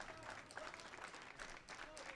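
A baseball crowd at a summer league game between Wareham and Falmouth claps and cheers, a dense rolling wave of applause heard from a distance, fairly faint, with an announcer speaking over it.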